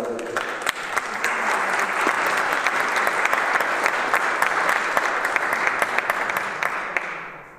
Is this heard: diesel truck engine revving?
no